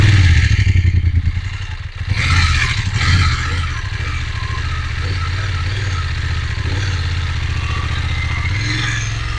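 Motorcycle revving hard in thick mud on a Paraguayan off-road track, rider working throttle and clutch; a loud, steady engine drone with clattering and scraping as the bike struggles, a heavier burst of strain early on.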